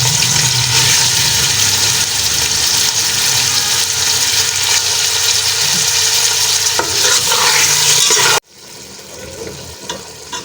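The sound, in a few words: boneless chicken frying in oil with garlic and ginger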